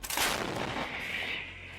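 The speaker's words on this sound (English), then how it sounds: "An artillery unit opens fire." Artillery fire from a unit opening up in a field combat setting in Ukraine, a single loud broadband blast that rolls into a long echoing rumble and slowly fades, with no voices.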